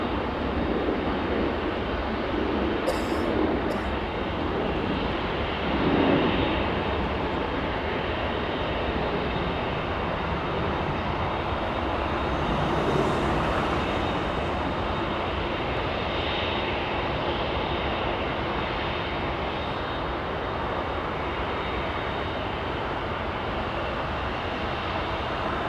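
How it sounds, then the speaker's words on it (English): A Lufthansa airliner taxis northbound at night at Los Angeles International Airport, its jet engines making a steady, moderately distant rumbling whine that holds for the whole stretch with no voices. "Lufthansa 457, this one taxiing northbound on Kilo"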